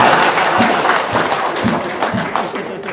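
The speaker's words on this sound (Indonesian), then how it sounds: "Tepuk tangan." A room full of people claps steadily for a few seconds, a loud, dense burst of applause with no speech over it.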